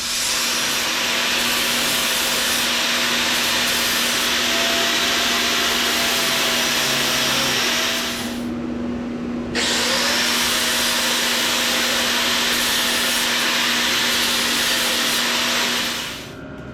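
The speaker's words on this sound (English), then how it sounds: "I'm gonna clean up the ends where I'm gonna weld on this angle iron with a flap disc. Get all this mill scale off" A flap disc on an angle grinder scours mill scale off the ends of angle iron, a loud continuous whining grind with a steady hum, pausing briefly midway before resuming and then winding down at the end.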